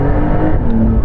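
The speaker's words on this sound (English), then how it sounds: "Actually, sports exhaust on." Porsche 911 GT3 engine with the sports exhaust switched on, a loud, dense, steady engine drone heard from inside the car, brief and continuous with no talk.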